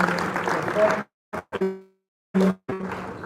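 Audience applause at a book launch lecture: a loud burst of clapping that breaks off, followed by short bursts and a voice, then the clapping resumes toward the end.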